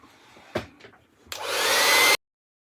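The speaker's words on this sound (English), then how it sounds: "I use the hairdryer quite predominantly on that." A few soft knocks and handling sounds, then a hair dryer starts and blows with a steady, loud whoosh for about a second over a plastic model kit before abruptly cutting off.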